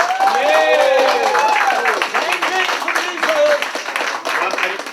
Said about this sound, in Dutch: Dan mag ik dan nog een groot applaus voor alle genomineerden